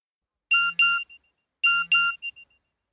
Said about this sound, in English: My mobile phone beeped.